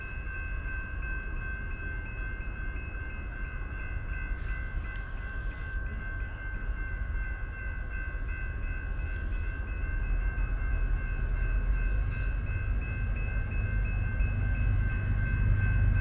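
A BNSF freight train passing in Elk River, with a steady low rumble of rolling wagons and a faint sustained tonal whine, growing slightly louder toward the end.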